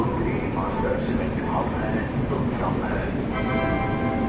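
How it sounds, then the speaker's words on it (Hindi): A Silchar Express train running between Guwahati and New Delhi stands at platform 1 of Kanpur station, its steady rumble filling the busy platform with voices and station noise over it. "प्लेटफॉर्म नंबर 1 पर आ चुकी है अपनी सिलचर एक्सप्रेस"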